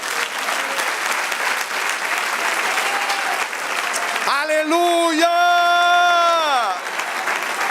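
A church congregation gives the Lord a full, loud round of applause, continuous massed clapping, then partway through a voice calls out and a sustained tonal chord rises over the clapping and fades near the end.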